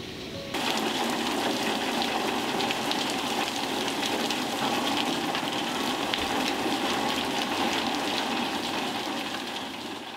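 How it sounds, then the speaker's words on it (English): Heavy rain pours steadily in California, a dense, loud, unbroken hiss of drops hitting surfaces that continues throughout without any voices. "Let me show you how much it's raining here"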